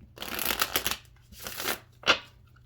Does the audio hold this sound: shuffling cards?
yes